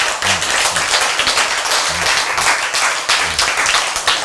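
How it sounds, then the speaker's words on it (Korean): A church congregation claps steadily, a dense, loud wash of many hands filling the room and carrying on throughout with no break. "오늘 여러분 박수 치시는 동안"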